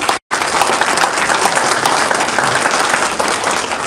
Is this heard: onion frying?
no